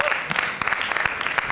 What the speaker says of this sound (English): So guys, please, a special round of applause for that,